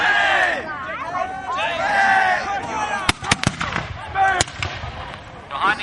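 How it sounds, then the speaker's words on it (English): Sharp mortar and cannon blasts crack at a Battle of Newport reenactment, several sudden booms punching through a noisy crowd and shouting voices, the reports landing near and loud between bursts of chatter. "the British are pulling mortar fire in on the Americans"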